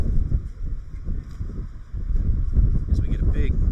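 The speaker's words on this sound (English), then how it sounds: "we get a big gust of wind, blows, or threatens to blow various items off our table" A big gust of wind buffets the microphone at an outdoor cricket ground during an over-50s match, low rumbling bursts that swell and strengthen toward the end, with faint background voices underneath.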